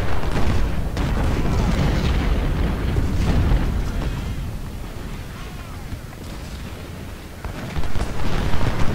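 Dull booms and rumbling blasts from artillery in Ultimate General: Civil War roll on continuously in a dense battle mix, with brief speech underneath.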